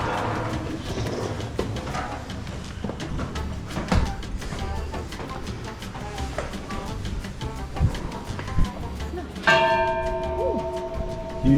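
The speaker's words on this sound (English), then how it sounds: "It's the half-hour bell." A church bell in the small Croatian town of Korčula rings the half hour, struck loud and close after a stretch of street ambience, its bright tone ringing on and sustaining to the end.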